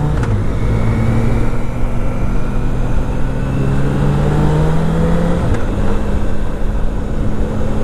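Engine of a 2018 BMW K1600 Grand America motorcycle revving with the clutch slipping, a steady loud drone whose pitch climbs and sags over nearly eight seconds, alone with no talk.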